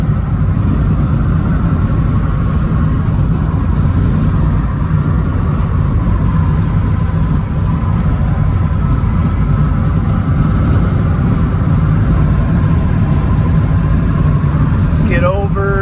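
A red Chevrolet Corvette C8 cruising at highway speed around 70 mph after a dealer auction, steady loud engine and road roar throughout with a brief tonal sound at the very end.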